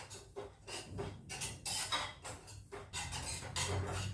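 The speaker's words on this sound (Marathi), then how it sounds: "तर हा रवा आपण नेहमीप्रमाणे मंद आचेवर थोडासा भाजून घेऊया।" Semolina roasts in a pan over low heat, with a spoon scraping and stirring the dry grains in irregular strokes, quiet and close, with faint metallic contact sounds.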